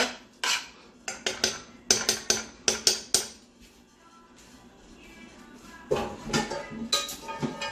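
A big spoon clanking against a metal pot of chickenless alfredo, sharp repeated knocks in quick bursts, a quieter stirring stretch in the middle, then more clattering strikes near the end.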